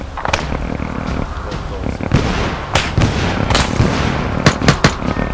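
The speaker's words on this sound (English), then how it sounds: "they're shooting into the fucking building from the west side." Repeated gunfire and explosive cracks in a military video game mission, with shots striking a building, loud and close, with irregular bursts throughout and some faint voices underneath.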